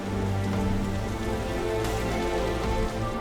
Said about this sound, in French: Les averses sont généralement de courte durée.